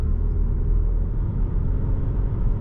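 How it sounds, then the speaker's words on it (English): Alfa Romeo Tonale hybrid engine picking back up while driving, a low steady rumble of engine and road noise inside the cabin with no other sounds. "The engine picks back up"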